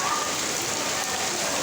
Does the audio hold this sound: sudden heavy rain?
yes